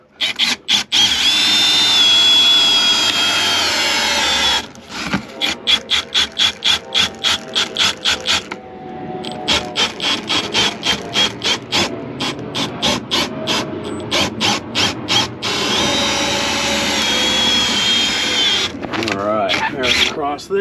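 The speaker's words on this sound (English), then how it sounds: "Now let's cut across the rest of the bottom of this guy." A power tool cuts out a motor home windshield opening, running in long loud whining stretches broken by rapid stuttering pulses and short pauses, with a voice speaking over parts of it.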